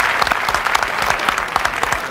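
A studio audience at a 1996 daytime talk show claps in a brief, dense burst of applause with no talk over it.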